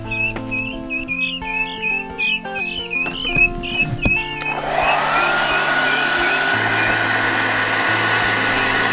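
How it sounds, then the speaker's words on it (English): A hair dryer starts up midway and blows with a steady, loud whir, after a stretch of chirpy electronic tones and clatter. "Fluff it out with the hair dryer"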